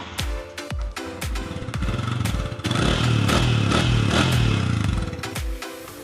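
A secondhand motorcycle engine with 60,000 mileage is cranked with several sharp clattering starter pulses, then catches and runs at a steady, fairly loud idle before cutting off.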